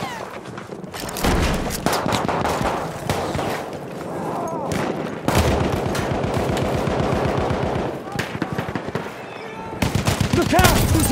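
Machine gun fire in the video game Battlefield 1, rapid bursts of automatic shots crackling in long strings with short pauses and booming impacts between, loud and close with some talk underneath.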